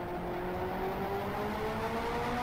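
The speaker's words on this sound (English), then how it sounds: "Heel and toeing down through the gears." A car engine on a race track with tight 90-degree corners, steady and fairly loud, its pitch rising and shifting as the driver heel-and-toes down through the gears, no talking.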